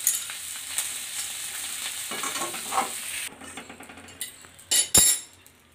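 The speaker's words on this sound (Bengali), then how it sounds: "আমার আলুটা খুব সুন্দর ভাজা হয়ে গেছে" Potatoes, already boiled, fry in a kadai with steady hiss and frequent clinks and scrapes of stirring, a louder clatter near the end, with no talk over it.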